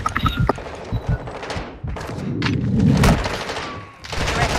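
Rapid bursts of gunfire in a Call of Duty Modern Warfare 2 ranked Hardpoint match, with loud cracks and booming shots, mixed with game sound effects and some speech.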